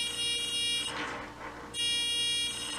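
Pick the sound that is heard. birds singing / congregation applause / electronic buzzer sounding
electronic buzzer sounding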